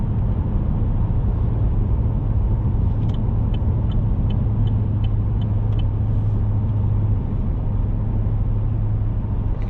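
A GMC Sierra 2500HD pickup with the 6.6-liter gas engine cruises along a country road, its low, steady engine and road rumble droning continuously from inside the cab, with a few faint high ticks partway through.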